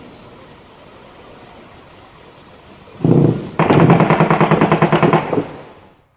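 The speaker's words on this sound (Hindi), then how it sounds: "ये वो आवाजें हैं जो आप सुन रहे हैं, जो पाकिस्तान की तरफ से पाक रेंजर्स ने सरहद पर बीएसएफ की चौकियों को निशाना बनाते हुए फायरिंग की थी" Bursts of gunfire from Pakistani Rangers aimed at BSF border posts along the India–Pakistan border: a short loud burst, then a rapid string of distant automatic shots, fading out after about two seconds.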